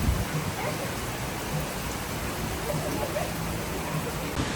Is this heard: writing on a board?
no